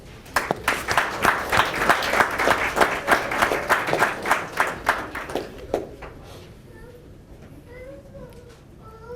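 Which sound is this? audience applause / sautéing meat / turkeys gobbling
audience applause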